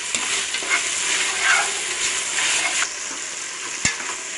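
Green chilies and onions sauté in a pan with ginger garlic paste and biryani spices for vegetable biryani, giving a bright continuous sizzle broken by stirring scrapes and one sharp knock near the end, no voices.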